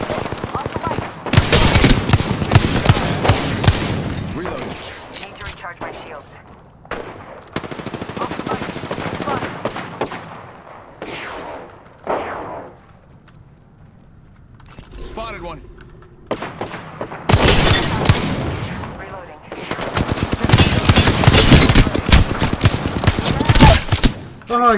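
Automatic and single gunfire bursts from the shooter game Apex Legends rattle loudly through most of the stretch, with excited players talking over the in-game fire between volleys.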